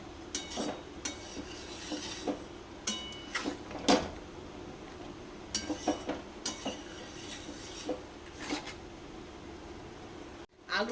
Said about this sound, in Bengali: আলুটা দিয়ে পাঁচ মিনিট মতন আমি কষে নিলাম